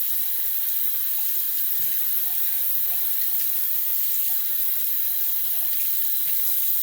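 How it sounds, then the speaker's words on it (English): Water runs steadily from a tap into a sink while something is rinsed out, a constant close hiss with faint splashing changes throughout. "I gotta rinse this out, I don't like it."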